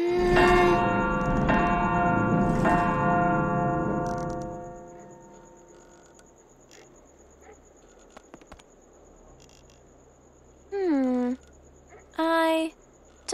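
A large dragon's bell in the adventure game Anna's Quest tolls loudly with rich ringing overtones at the start and slowly decays, followed by quiet ambience and a few brief, bending game sounds later.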